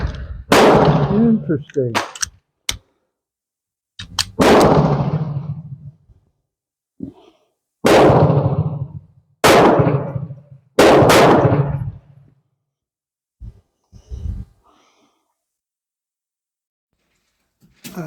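A gun fires surplus .32 ammunition and briefly runs full auto: several loud, close shots with ringing, echoing tails, some in quick bunches and others spaced a few seconds apart, followed by a few softer knocks near the end. A voice speaks briefly.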